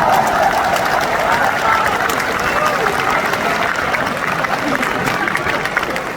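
A large seminar audience at a business training program claps continuously, a thick, unbroken wash of many hands at fairly high volume, with crowd noise mixed in and no pauses.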